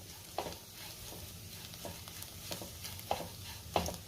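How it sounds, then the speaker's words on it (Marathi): Crushed peanut powder is stir-fried in a pan over a low flame: a quiet sizzle runs underneath while a few distinct scrapes and stirring strokes come through at irregular moments. "शेंगदाण्याचा कूट घातल्यावर साधारण 1 मिनिटभर मी परतून घेतलेला आहे।"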